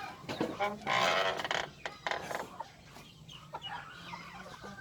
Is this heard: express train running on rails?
no